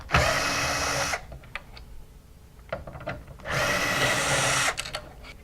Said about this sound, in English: First step we're going to do is remove the 2 screws.